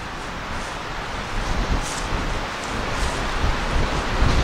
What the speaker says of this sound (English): Yeah, it's quite breezy out here today.